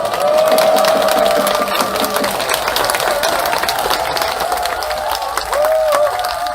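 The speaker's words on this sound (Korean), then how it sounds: "이럴 때 박수 쳐야 되는데요" Applause from an outdoor crowd at a Catholic priests' Monday prayer rally in Daegu's 2.28 Memorial Park. It is a steady, dense clapping wash that holds for the whole stretch, with a brief swell near the end.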